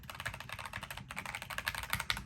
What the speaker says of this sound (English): In comparison to these.